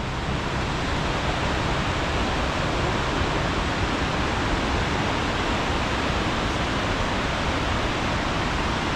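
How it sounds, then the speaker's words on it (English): Tvindefossen waterfall in Norway, a huge fall, heard as a constant dense roar of rushing water, loud and unbroken throughout. "this is the waterfall"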